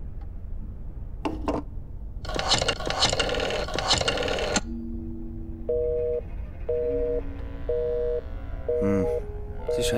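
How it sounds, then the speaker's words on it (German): Telephone in the video game Black Mirror 2, with a run of short, evenly spaced tones in the second half, like a call ringing out, after some clattering noises. "Dann rufen wir mal endlich an"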